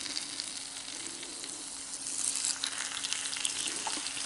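Potato slices frying in oil in a pan, a continuous bright sizzle that grows louder partway through, close and steady with no talk.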